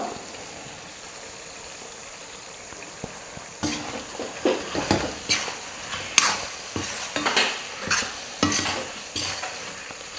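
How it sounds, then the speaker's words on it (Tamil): Chicken being stirred with ground masala in a pan for a chicken gravy, a low sizzle that gives way to repeated scraping and clattering spoon strokes in an uneven rhythm, close and fairly loud. "மசாலா சேர்த்ததுக்கப்புறம் நல்லா கலந்து விட்டுடுங்க"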